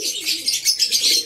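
Tippler pigeons coo in soft, repeated rolling calls close by, steady and continuous with no talk over them.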